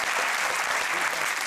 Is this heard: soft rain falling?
no